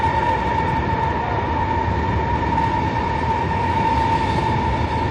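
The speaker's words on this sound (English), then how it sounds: "It's perhaps a little dark and noisy as you see this train depart." A train departs an underground station platform in Guangzhou, a loud steady roar with a sustained high tone droning throughout, continuous and close with no speech.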